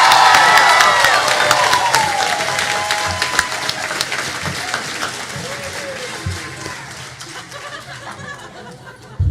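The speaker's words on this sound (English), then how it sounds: "Can we give this class of 2018 one more round of applause?" A commencement crowd for the class of 2018 applauds and cheers, loud dense clapping with whoops and laughter that gradually fades over several seconds, voices chattering underneath.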